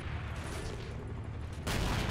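A delayed ammo rack explosion inside a tank in a winter battle video game: steady rumbling blast noise that surges into a louder, broader burst near the end.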